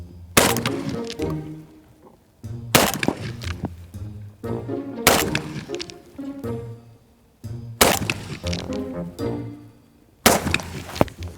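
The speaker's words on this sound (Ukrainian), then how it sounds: "Я роблю 5 пострілів на дистанцію 100 метрів." Five loud rifle shots fired at a drone mock-up 100 metres away ring out one at a time, about two and a half seconds apart, each followed by a short echoing tail.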